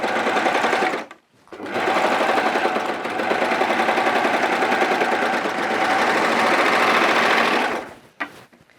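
A sewing machine stitching the placket of children's coveralls, a fast, close, steady mechanical whir with a rapid needle patter, starting after a brief pause, running for several seconds, then stopping with a short restart at the end.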